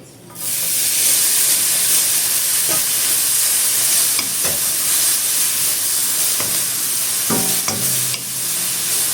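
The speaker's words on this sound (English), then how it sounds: "Then we are going to saute the cabbage a little." Cabbage sautéing in a hot pan for chow mein, a steady loud sizzle and hiss with occasional clacks of a utensil stirring, no voices.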